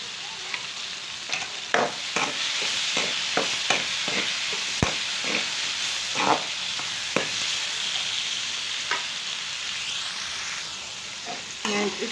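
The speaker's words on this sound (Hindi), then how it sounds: "बाकी हम इसको गोल्डन होने तक फ्राई करेंगे" Apple gourd (tinda) fries in a pan with two green chillies over low heat, giving a steady close sizzle. Intermittent sharp scrapes of stirring cut through the frying, with no talk.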